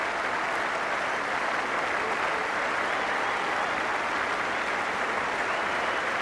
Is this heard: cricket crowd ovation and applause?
yes